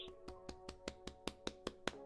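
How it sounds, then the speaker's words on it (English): Ten sharp, evenly spaced claps ring out in a quick steady rhythm, crisp and close, with a faint tone sustained underneath. "That's me clapping."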